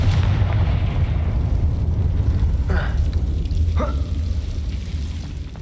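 A Confringo blasting spell goes off in the video game Hogwarts Legacy, a heavy rumbling explosion over a dense, noisy game soundscape, with a couple of brief whooshing bursts partway through.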